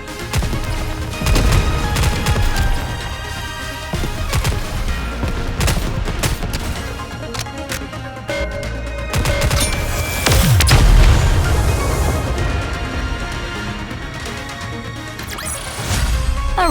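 Sustained gunfire in the Nikke game, with dense rapid shots, booms and crashes firing loudly and almost continuously in bursts over music.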